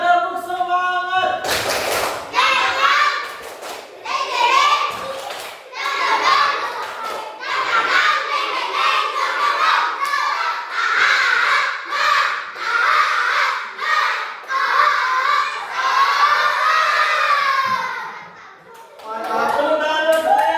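Children in a classroom perform a rhythmic spirit clap together, with steady bursts of group clapping and chanting voices running throughout, close and loud, pausing briefly near the end.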